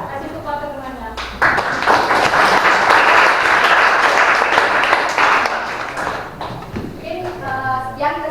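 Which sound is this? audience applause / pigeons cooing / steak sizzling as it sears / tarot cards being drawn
audience applause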